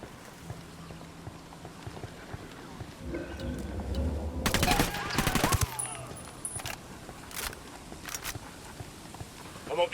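Gunfire in Ghost Recon Wildlands, a burst of rapid automatic shots near the middle followed by a few isolated cracks, over quieter game ambience with some voices.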